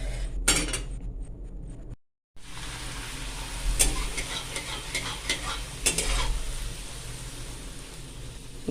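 Puris deep-frying in hot oil give a steady, loud sizzle throughout, with occasional clinks and scrapes of a utensil against the pan and a brief dropout near the middle.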